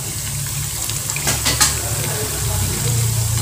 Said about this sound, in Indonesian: Ini persis kita goreng kentang itu ya